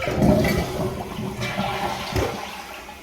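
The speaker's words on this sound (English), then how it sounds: "I think this will explain why when I press and release the flush" A second-generation Gerber Avalanche toilet fitted with a Fluidmaster flapper flushes close by, a loud rushing gush of water that swirls and tapers off within a few seconds, heard alone without talking.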